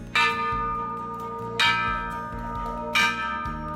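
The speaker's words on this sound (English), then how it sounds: "After 5 rounds of chemo and 7 weeks of radiation, Jacob Saulnier would ring the bell" A bell rung to mark the end of chemotherapy and radiation treatment strikes three times at roughly even intervals, each clear metallic clang ringing out and decaying under a low background hum.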